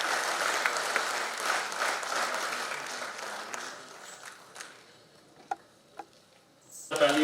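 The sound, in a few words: applause at a ceremony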